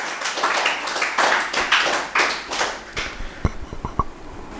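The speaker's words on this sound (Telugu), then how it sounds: "అందరి గురువులకి గట్టిగా క్లాప్ చేసుకుందాము." An audience at a Telugu meditation gathering claps together: a sustained burst of group applause that thins out into a few scattered, sharper individual claps toward the end.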